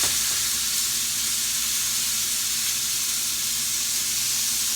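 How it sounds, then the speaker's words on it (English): Ground beef sizzles steadily in a pan with mushrooms and onions, a continuous close frying hiss with no talking. "So I'm going to add our ground beef and cook that"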